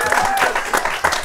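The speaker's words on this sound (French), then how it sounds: "Rachid, On peut l'applaudir." Talk show studio audience applauding the winner, a brief burst of uneven clapping with a few louder claps and surges, loud and close.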